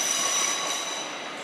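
London Overground train to Watford Junction passing through London Euston station on the West Coast Main Line, a steady rolling rumble with high wheel squeal held throughout, fairly close and alone.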